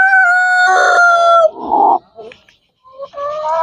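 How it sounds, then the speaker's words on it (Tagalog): A young Dong Tao chicken crows loudly and close, a long harmonic call followed by a rough squawk and softer clucking fragments, then another crow begins. "Dong Tao Chicken. Ang manok pang kalawakan."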